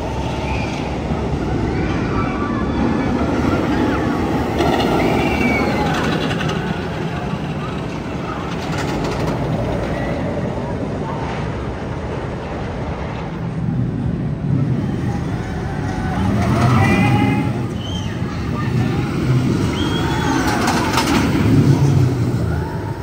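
The Twisted Cyclone roller coaster at Six Flags Over Georgia roars along its track for a long, steady stretch, with cars rattling and wind rushing past. Faint riders' voices come through now and then.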